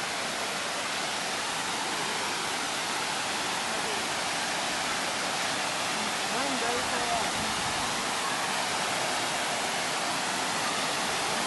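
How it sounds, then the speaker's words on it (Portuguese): The Tijuípe waterfall roars as a steady, loud wash of rushing water that fills the whole scene without a break. A faint voice is buried beneath it. "Ah, essa cachoeirada,"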